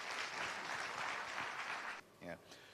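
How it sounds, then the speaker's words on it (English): An audience claps steadily and densely after a speech, a broad wash of applause that stops abruptly, followed by a brief voice. "another big round of applause for Mr. Lutfi Siddiqui"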